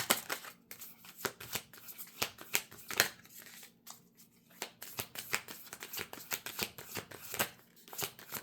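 Tarot cards being shuffled by hand, a close, crisp series of rapid riffling flicks and soft slaps in an uneven rhythm, with no talking.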